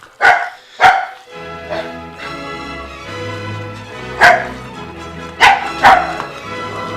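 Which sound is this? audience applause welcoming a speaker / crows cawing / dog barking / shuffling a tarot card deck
dog barking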